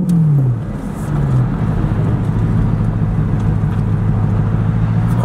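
A car engine hums steadily with a deep, throaty exhaust note, pitch sliding down as it eases off, then holding a loud, rumbling idle-like drone.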